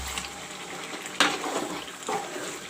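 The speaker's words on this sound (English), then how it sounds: "Now I will put some water. Hot water I will put." Hot water poured into a pan of fried mutton and masala for mutton curry, bursting into a sudden loud hiss and splash, then settling into a continuous bubbling sizzle.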